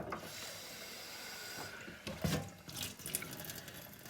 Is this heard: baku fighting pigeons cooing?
no